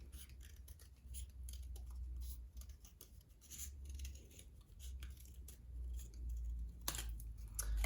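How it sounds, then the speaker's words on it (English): Scissors cut a circle from folded paper, giving soft, quiet snipping and rustling that repeats unevenly through the clip at close range, with no talking. "I'm gonna fold my paper in half and cut that circle out so it's easier"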